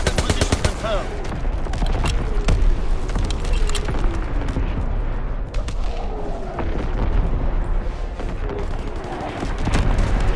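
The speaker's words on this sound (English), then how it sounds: "Firing battery one. Target position confirmed." An artillery battery barrage in the Call of Duty: WWII game on the Dunkirk map, with dense, continuous booms and rattling gunfire filling the whole stretch, loud and unbroken, and a voice faintly present underneath.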